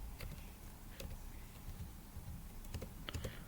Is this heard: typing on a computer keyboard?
yes